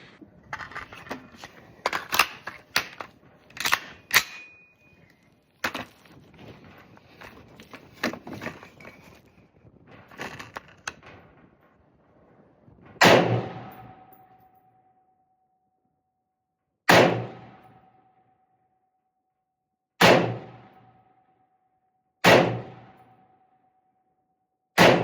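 Handling clicks and rattles from a home-built AR rifle at an outdoor range with a target at 50 yards, then four or five loud single shots about three seconds apart, each ending in a short echoing decay.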